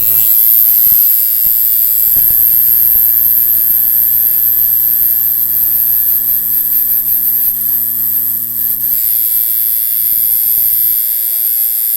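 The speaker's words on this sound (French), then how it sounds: "quand on met le voltage derrière sur une machine à bobine, on a ce qu'il faut" A coil tattoo machine running with voltage applied gives a loud, steady electric buzz with a constant pitch and rich harmonics, holding for the whole stretch with only a slight change in tone partway through.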